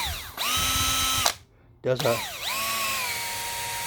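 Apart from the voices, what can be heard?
drill with paint mixer attachment mixing paint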